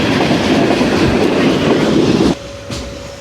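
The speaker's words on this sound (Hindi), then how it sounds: "एम्प्रेस ब्रिज पे गुड्स ट्रेन का मुकाबला ज़करिया एक्सप्रेस से ज़बरदस्त आउट क्लास सीन हो गया दोस्तों" A goods train and the Zakriya Express pass on the Empress Bridge with a loud, close rumble and rattle of wagons, then cut off abruptly after about two seconds to a quieter hum.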